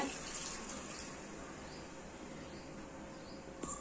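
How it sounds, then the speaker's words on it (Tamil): Water pours steadily into a pot of mutton curry, a soft continuous hiss that runs the whole time with no talking. "இப்போ வந்து நம்ம தண்ணி சேர்த்துக்குவோம்"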